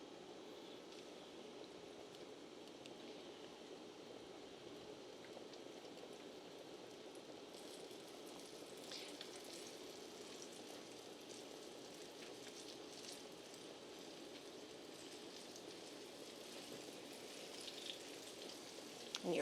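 Cornstarch-coated chicken nugget pieces fry a few at a time in hot oil, giving a steady, dense crackling sizzle that stays even and moderately quiet throughout, with no voices over it.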